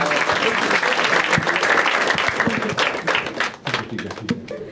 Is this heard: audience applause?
yes